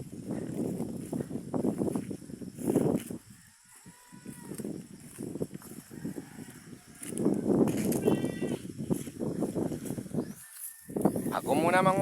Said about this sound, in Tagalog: Ayan yung kambing ng pamangkin ko guys.